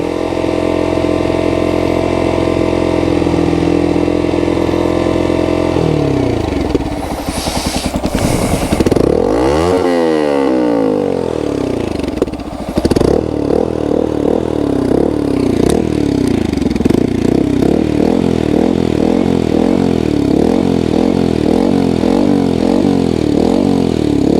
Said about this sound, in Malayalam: അപ്പോൾ വണ്ടിയുടെ സൗണ്ട് ഇങ്ങനെ ആയിരിക്കും.